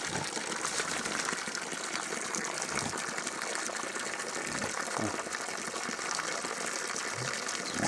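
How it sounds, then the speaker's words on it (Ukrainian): Steady, loud rush of water running from a tap at a small pig farm, continuous and broadband, with faint voices murmuring underneath. "Уключив воду."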